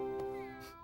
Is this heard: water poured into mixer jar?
no